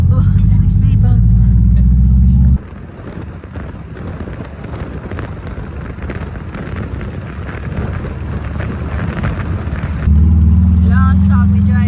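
Van driving on an Argentine road over speed bumps, loud rumbling road and wind noise in the middle with heavier low engine drone at start and end; no talk heard.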